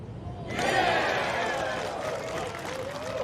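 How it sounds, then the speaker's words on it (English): A golf gallery at the LPGA Mizuho Americas Open erupts into a broad roar that swells up suddenly and then holds, slowly easing as it carries across the course. "And you heard the roars"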